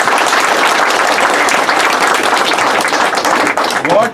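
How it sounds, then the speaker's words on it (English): An audience at a formal felicitation ceremony for a Supreme Court judge bursts into sustained applause, a dense, loud roar of many hands clapping that holds steady and begins to taper near the end. "Let us give a round of applause for that"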